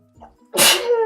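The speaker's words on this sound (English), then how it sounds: "And I'm about to sneeze, excuse me." A single sharp sneeze bursts out after a brief inhale, close and loud.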